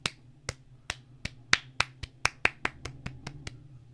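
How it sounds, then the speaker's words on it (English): Sharp, separate hand claps from a single person ring out at a quick, slightly uneven pace, about a dozen crisp close claps over a quiet room background. "I can't be the only one clapping."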